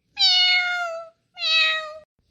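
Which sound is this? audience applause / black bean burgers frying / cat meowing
cat meowing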